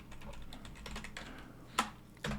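Computer keyboard typing during a PowerShell session, a few quiet, scattered key clicks with two sharper strokes near the end, alone with no talk.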